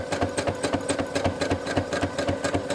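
A sewing machine free-motion quilting a Christmas quilt, its needle hammering in a fast, steady rhythm of close, even pulses with no talking.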